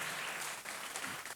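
A congregation applauds in a large church on the morning of a bishop's 13th anniversary celebration, a steady wash of clapping that sounds soft and somewhat distant.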